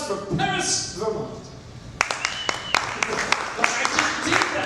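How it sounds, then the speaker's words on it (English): Open-mic bar audience applauding a poet, a burst of clapping with scattered sharp claps rising after a stretch of voices and crowd chatter, moderately near. "Big round of applause for Paris"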